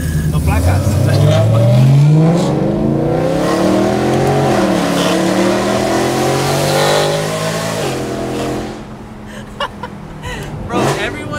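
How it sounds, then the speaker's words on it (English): BMW E92 M3 engine revving hard and pulling away, loud and close, pitch climbing then settling into a steady drone before fading, with voices talking over it near the end. "Bro, your car is stupid loud, bro."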